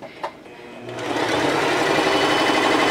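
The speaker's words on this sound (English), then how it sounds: "now I'm gonna go ahead and sew my bottom row of my block" Sewing machine stitching the bottom row of a quilt block, starting after a brief click and then running in a steady, loud, continuous whir close by.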